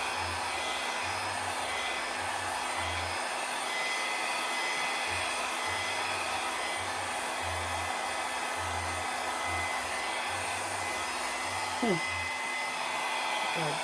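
A hair dryer blows steadily across wet acrylic paint during a Dutch pour, a loud, close, continuous whooshing hum with no break for the whole stretch.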